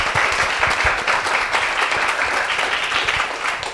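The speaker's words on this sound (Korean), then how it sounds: "박수 한번 부탁드릴게요" Church congregation applause at a Korean church service, a continuous, lively round of clapping from many hands, loud and close, with no speech over it.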